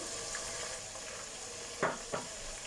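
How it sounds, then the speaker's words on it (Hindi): Chicken fries in a pot for biryani with a low, steady sizzle, broken by two brief scraping stirs near the end. "3 मिनट हो चुके हैं मुझे चिकन की भुनाई करते हुए।"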